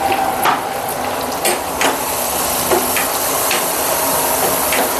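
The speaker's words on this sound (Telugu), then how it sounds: "ఆనియన్ బాగా వేగించుకోవాలి." Onions frying in a pan give a loud continuous hissing sizzle with scattered small crackles and pops, heard close with no talk.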